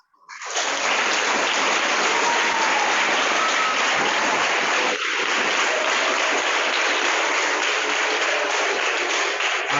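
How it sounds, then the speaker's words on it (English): Audience applause rises quickly and holds as a steady, even roar of many clapping hands, dense and continuous for nearly ten seconds like rushing water. "I am tempted to say that we should keep that applause going."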